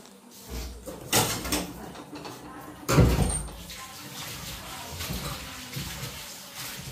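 Tap water splashes while meat and fish are rinsed in a home kitchen, with two louder gushing bursts amid a softer ongoing trickle, close and moderately loud.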